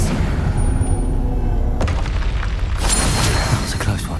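A magical disarming spell is cast in the Hogwarts Legacy video game, heard as a loud booming burst with a sharp crack midway, amid continuous combat effects and no talk.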